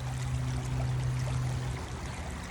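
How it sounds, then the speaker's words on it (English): Water flowing steadily in an outdoor stream, a continuous broadband rush with a low steady hum beneath, constant and fairly close throughout with no voices. "listening to the sounds of the water here"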